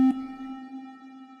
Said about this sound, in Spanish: van a poder escuchar que la reverberación tiene como que cierta oscilación en su frecuencia